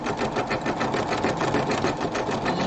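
Sewing machine stitching a rope bowl with white bobbin thread, a fast steady mechanical whirring chatter close by, continuous and alone.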